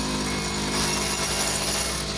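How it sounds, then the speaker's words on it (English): A big power drill bores holes for foundation repair on a house, a loud, continuous grinding whine that holds steady throughout with no pauses. "He has the big drill to do the holes"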